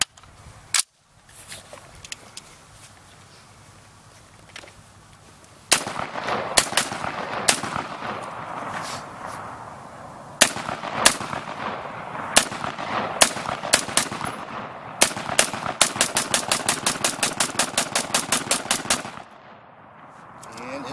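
A Faxon Firearms ARAK-21 rifle test-fires PMC .223 rounds from an HK magazine. Loud, close single shots come at an uneven pace, then a rapid string of evenly spaced shots follows near the end.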